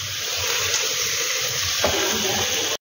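Tap water running steadily into a bowl in a home kitchen while a rui fish curry with fried potato and pointed gourd is cooked, a continuous close gush that cuts off abruptly at the end.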